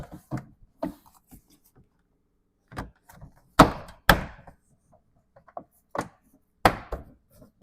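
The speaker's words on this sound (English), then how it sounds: "we can start popping in all your body clamps" Plastic body clamps being pressed into a Lexus GX460 body panel: a series of sharp, close clicks and snaps at irregular intervals, a few louder pops among them, with near silence between.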